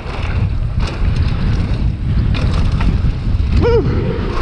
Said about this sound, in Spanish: el viento casi me saca de arriba de la bicicleta